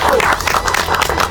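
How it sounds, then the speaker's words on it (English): Audience clapping at a home cooking competition after a chef's spiced Indian poultry dish is praised, a short burst of dense, steady applause with voices mixed in. "Let's clap for it."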